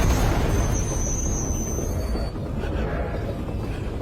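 Train carriages derail and crash off the rails with a loud, continuous rumbling roar, high metallic wheel squeals early on, then a grinding clatter that settles into a sustained heavy rumble.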